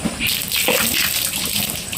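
Hot natural spring water splashing and pouring steadily over bathers at a hot water spring pool beside a temple, a continuous close wash of water with a voice briefly heard underneath.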